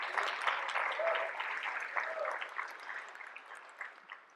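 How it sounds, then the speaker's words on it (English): A conference audience claps at a general session, a soft, distant patter of applause that carries on steadily and tapers off toward the end. "Pause for another clap."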